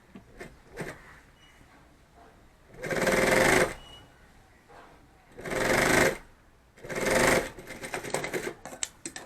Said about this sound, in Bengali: ধরে এই সাইডটাও সেম সেলাই করব একই রকমভাবে